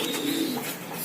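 A pigeon gives a single short, soft coo, fairly close, with nothing else prominent alongside.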